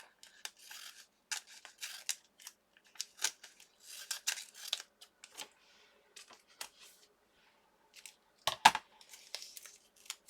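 Scissors snip through strips of purple low-tack painter's tape, with a quick series of crisp, close cuts and short pauses between them, no voices.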